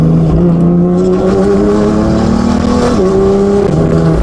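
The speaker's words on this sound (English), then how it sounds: "your trans sounds... It sounds like straight cut gears" A loud, high straight-cut-sounding transmission gear whine rises and shifts in pitch over a roaring BMW M4 engine fitted with downpipes, close and continuous as the car pulls hard.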